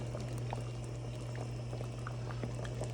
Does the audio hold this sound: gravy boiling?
yes